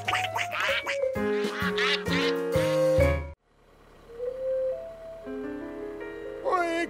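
Ducks quack in a lively, close cluster for about three seconds, then after a brief silence a few softer quacks return more sparsely.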